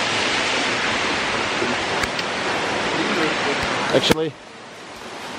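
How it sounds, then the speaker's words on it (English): Rushing mountain waterfall in a forested Caucasus gorge, a steady broadband roar filling the scene, with a brief voice breaking in near the end before the roar drops slightly. "So guys, there is a stage 2 of this waterfall."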